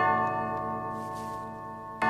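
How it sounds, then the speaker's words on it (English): A clock chime rings out in a children's pantomime-style Cinderella show, sustained bell-like tones holding steady and ringing alone for about two seconds before a sharp new strike at the end. "Ah, a clock chiming."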